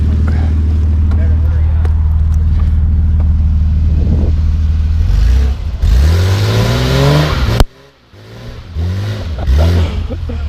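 BMW car engine revving hard while drifting, loud and close with rising and falling revs and tire noise, an abrupt cut near the end before the engine roars again.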